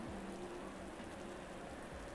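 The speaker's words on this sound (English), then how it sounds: "It is raining." Steady rain falls at the Laguna Seca race circuit in California, a faint, even hiss of drops on surfaces with no other sounds.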